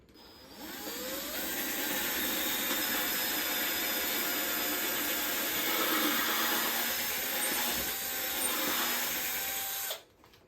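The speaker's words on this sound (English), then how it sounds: "Now, we drill the hole where we want the rod to go through" A power drill whines steadily as it bores into wood for about nine seconds, close and continuous, then spins down and stops.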